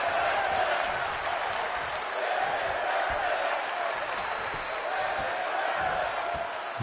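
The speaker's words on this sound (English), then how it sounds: "crowd chanting for women's wrestling." Arena crowd at an indie women's wrestling event chanting steadily, a dense continuous roar of many voices that holds at an even loudness throughout with no pauses.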